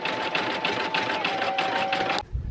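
An embroidery machine stitches a luggage tag in the hoop, giving a steady rapid mechanical chatter with faint rhythmic pulses and a thin whine, close and alone, stopping abruptly just before the end.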